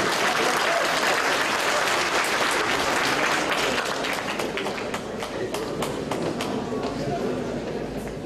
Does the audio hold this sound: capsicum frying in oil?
no